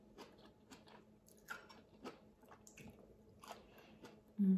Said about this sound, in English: Let's see if this is crunchy because I did put this in the air fryer instead of frying it.